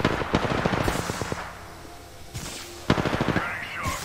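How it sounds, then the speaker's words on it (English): Rapid automatic gunfire in a sci-fi shooter video game, two fast bursts of close, loud shots separated by a short lull, with a voice talking faintly underneath. "Firing."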